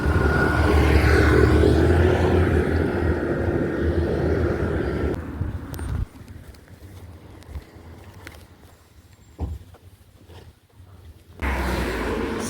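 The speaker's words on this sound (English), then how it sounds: "here comes the tractor." A loud tractor engine rumbles close by, then fades quickly as the tractor passes, leaving quieter outdoor ambience with occasional knocks before the engine noise returns.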